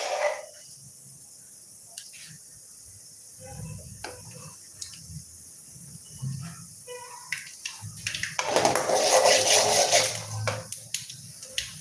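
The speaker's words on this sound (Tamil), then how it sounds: "கடுகு நல்லா பொரியுது" Mustard seeds splutter and pop in hot oil in a home kitchen. The first stretch holds quiet scattered crackles, then a dense, loud burst of popping and sizzling builds near the end.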